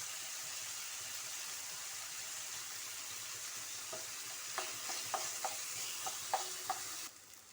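Ginger garlic paste sizzling in a pan, a steady soft frying hiss with a few sharp pops and stirring taps near the end, close and fairly quiet, with no voices.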